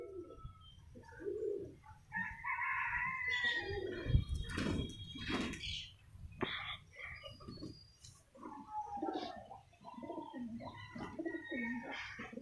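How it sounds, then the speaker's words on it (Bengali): Pigeons coo repeatedly in soft, throaty rolling calls, with some higher chirps around them, fairly close and steady over a quiet background. "কবুতর দুটো এখনো ওখানে বসে আছে"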